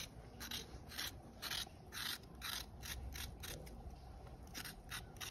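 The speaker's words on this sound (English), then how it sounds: "Some people don't scrape carrot, but I scrape it." Carrot being scraped with a knife for chicken foot soup, a run of rhythmic rasping strokes, roughly nine or ten in quick succession, close and moderately loud over a steady low background hum.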